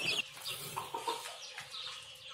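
Chickens being fed egg-layer feed cluck and chatter softly at a distance, a faint, continuous jumble of calls.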